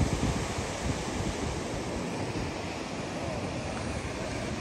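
Ocean surf at Manly Beach in Sydney roars as a continuous broadband wash, with steady wave noise and wind buffeting the microphone throughout.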